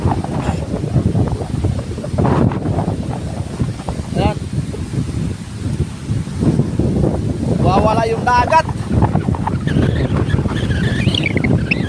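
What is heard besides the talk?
strong monsoon wind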